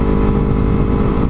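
A Yamaha MT-03 motorcycle's fairly quiet exhaust produces a steady, loud, close engine drone with an even low rumble and no change in pitch, heard alone.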